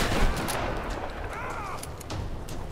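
Shotgun fire in the Tomb Raider video game: a dense, rumbling burst of blasts and debris noise that fills the whole stretch, loud and close, with faint game sound layered in.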